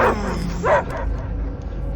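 The dog Cosmo in the Guardians of the Galaxy video game lets out a couple of sharp barks, close and loud, over a deep rumbling game soundtrack.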